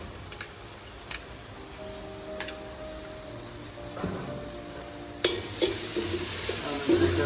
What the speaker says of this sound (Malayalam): മിക്സ് ചെയ്യുക, ഒന്ന് ചെറുതായിട്ടൊന്ന് കുക്കായാൽ മതി.